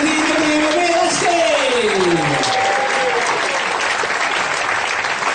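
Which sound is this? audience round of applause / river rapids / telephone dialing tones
audience round of applause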